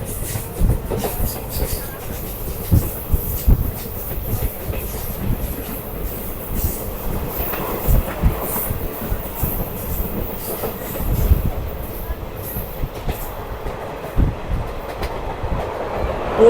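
Onboard the Bamanhat–Alipurduar passenger train as it runs on the rails: a loud, continuous rumble with rhythmic clickety-clack from the wheels and occasional squeals, heard from inside the carriage.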